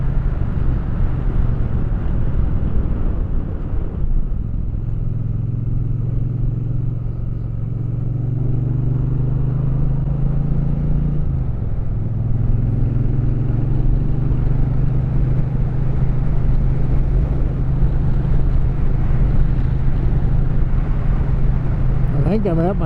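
An Aprilia Tuareg motorcycle on a ride, its engine droning steadily and close with a low rumbling hum throughout, shifting pitch slightly as it changes speed, with wind buffeting the microphone.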